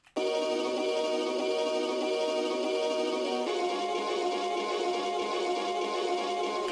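A chopped, ethereal music sample built in FL Studio plays as a dense, sustained shimmering wash of layered tones, steady and fairly quiet with no voices.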